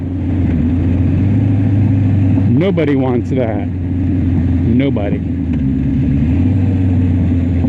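A big, heavy motorcycle's engine and exhaust drone steadily while it is ridden, a constant low rumble throughout with a couple of brief rises; someone talks over it near the middle.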